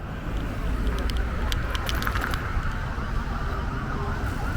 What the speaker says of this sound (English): There comes an ambulance with a police car behind it.